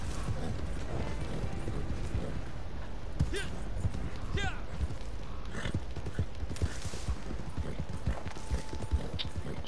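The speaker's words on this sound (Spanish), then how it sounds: "qué lento es el caballo" Horse hooves clip-clopping in the Red Dead Online video game, a steady rhythmic stream of hoofbeats mixed with game sound effects and occasional speech.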